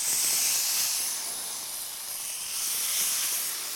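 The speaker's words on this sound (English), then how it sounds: "just drizzle a little bit of this parmesan oil across the grill plate" Parmesan oil drizzled onto a very hot BBQ grill plate under a closed hood sizzles in a steady, loud hiss that swells and eases slightly, with no voices.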